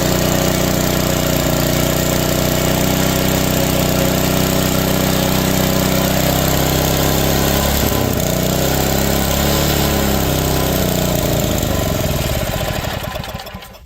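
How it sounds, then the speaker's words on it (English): A scrapped 3 hp dual-output Tecumseh small engine with a broken governor runs loudly on fuel from its carburetor bowl, a rough steady chugging that wavers and then sputters out as the fuel runs dry. "we're just gonna see if I can make this thing work off the carburetor now."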